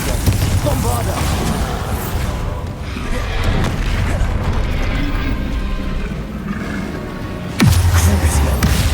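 A Bombarda blast spell booms in Hogwarts Legacy combat, ending a stretch of rumbling spell noise with a sudden heavy thump, loud and close, while a voice calls out spell names.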